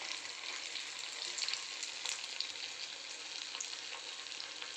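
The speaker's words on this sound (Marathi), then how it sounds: "कोबी 65 चांगली फ्राय होती आहे" Oil sizzles and crackles steadily as cabbage pieces deep fry for cabbage 65, a continuous close bubbling hiss with occasional sharper pops, no talking.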